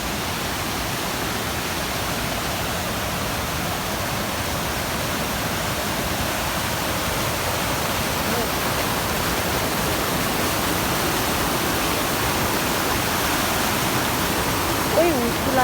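A waterfall on a rainy-season trek at Panchpokhari in Sindhupalchowk, Nepal, gives a loud, steady rushing roar that fills the whole clip without pause.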